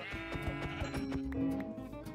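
Sheep in Minecraft bleat in a few wavering, nasal calls over low game background sounds, with no talking.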